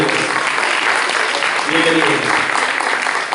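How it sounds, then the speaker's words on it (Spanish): Applause from a church congregation during a Spanish-language service, a steady wash of clapping filling the room with voices and cheers mixed in. "un aplauso a los diamantes"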